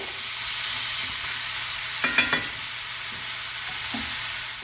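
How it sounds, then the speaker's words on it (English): Steady sizzling of chicken frying in a pot, with a few quick clinks of a utensil against metal partway through. "So I'm just going to let it fry like this for, I would say, like 10 minutes."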